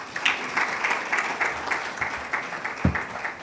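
Audience applause follows a presentation at a digital payments workshop, a steady patter of clapping from a moderate crowd, lasting the whole stretch with a louder clap near the end.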